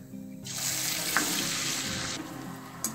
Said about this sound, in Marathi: आता आपण बाकीच्या सुद्धा तळून घेऊ।